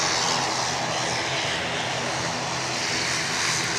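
A Loganair ATR 72-600 turboprop holds short of the runway at Edinburgh, its engines giving a loud, steady broadband roar with a droning propeller hum that stays even throughout.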